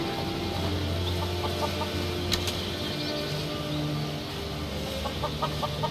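Chickens cluck in short repeated bursts over a steady ambient background in the Skyrim video game, moderately near, with no voices.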